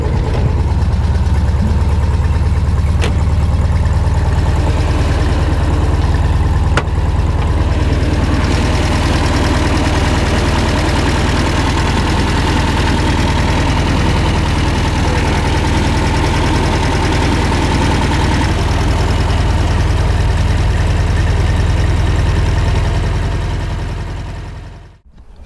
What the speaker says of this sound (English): pull that choke out a little bit, tap the pedal a couple times, turn the key, make sure you're in neutral, and she should start